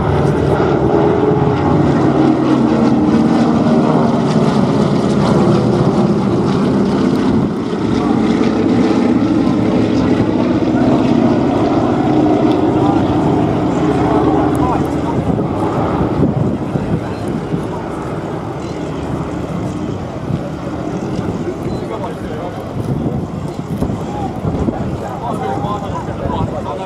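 A Douglas DC-3 propeller airliner flies past at an airshow, its radial engines droning loudly and continuously with wind buffeting, then easing slightly as it recedes; a commentator talks over the sound.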